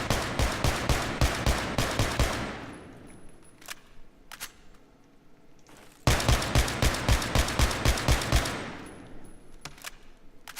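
A Mark 11 rifle with a foregrip in Battlefield 3 empties its magazine in two bursts of rapid semi-automatic shots, about a dozen evenly spaced loud cracks each, separated by a quieter lull with faint clicks.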